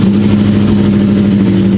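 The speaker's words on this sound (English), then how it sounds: "We're gonna pop the oil cap, turn the engine on, see if there's any blowback through that." A car engine idles steadily with the oil cap removed, a loud, even mechanical drone with a constant low hum throughout and no talk.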